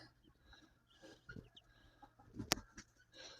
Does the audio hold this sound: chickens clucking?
yes